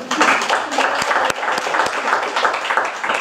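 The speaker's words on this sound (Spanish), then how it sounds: "Fuerte aplauso para Sara" A congress audience bursts into loud, dense applause for the organiser, with many hands clapping continuously and a few sharper claps standing out, without a break for its full length.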